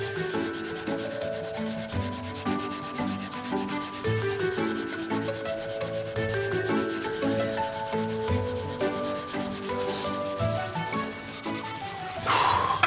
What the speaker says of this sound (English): A little bit of a lubricant, spray that on, and then some wire wool, cleans up the chrome really well, removes sort of surface rust